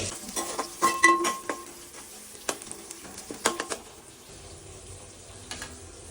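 Oil and onions fry in a pot for mutton curry, a soft sizzle beneath clattering stirring strokes and utensil knocks that come in short clusters, then settle into a quieter hiss.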